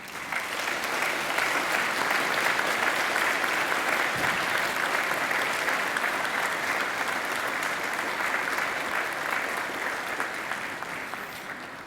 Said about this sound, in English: Now I want you to give them a mighty round of applause for what they've done.